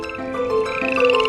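A frog croaks in a steady, close, fairly loud voiced call with a tonal, slightly rising pitch, heard alone with no talking.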